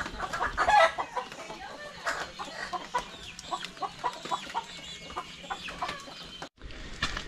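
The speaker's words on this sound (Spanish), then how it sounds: "las gallinas acostándose" Hens clucking and murmuring as they climb onto a perch to roost on a countryside farm after rain, with dense overlapping calls from several birds close by, one louder squawk early on, and steady chatter throughout.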